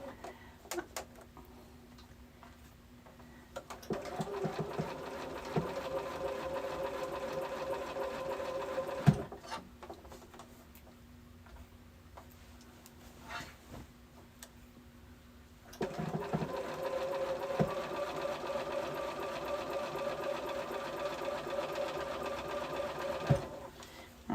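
A sewing machine hems the edge of a summer muumuu dress in two long steady runs of fast rhythmic stitching, close and clear, separated by a quiet pause with light handling noise.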